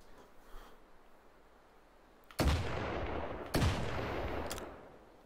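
Two loud, booming blasts from an old-school double-barrel shotgun in the video game Hot Dogs Horseshoes & Hand Grenades, about a second apart, each trailing off in a long echoing decay over quiet background.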